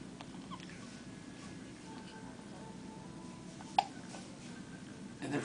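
One brief hiccup pops out partway through, close and distinct over quiet indoor background noise.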